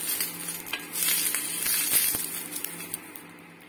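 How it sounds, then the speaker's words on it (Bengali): Brinjal, garlic and tomato roasting over an open flame, a continuous hissing crackle with scattered pops and soft knocks as they are turned, close and fairly loud. "বেগুনটাকে ভালোভাবে ঘুরিয়ে ঘুরিয়ে পোড়াতে হবে, রসুন টমেটো সমস্ত কিছুই একটু বাদে বাদে ঘুরিয়ে ঘুরিয়ে পোড়াতে হবে।"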